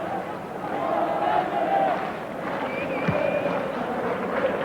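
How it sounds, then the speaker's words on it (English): A huge football crowd at Anfield for Liverpool v Ipswich roars as a steady, dense wash of noise, with a commentator talking over the top. "Match being watched by the biggest crowd of the season at Anfield."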